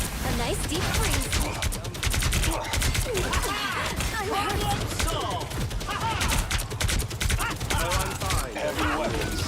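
Heavy weapons gunfire in the team shooter game Marvel Rivals, a dense, continuous barrage of rapid shots and impacts mixed with game effects and voices, loud and sustained throughout.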